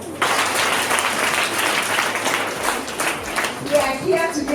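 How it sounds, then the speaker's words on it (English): An audience claps in sustained applause at a children's feeding program event, steady and fairly loud throughout, with voices talking over the clapping toward the end. "Can you give them a clap?"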